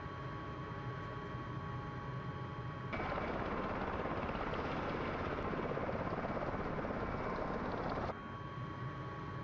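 An MV-22B Osprey's rotors run at idle in Microsoft Flight Simulator: a continuous broadband whoosh and drone that swells louder in the middle stretch, then drops back to a lower hum, with no voices.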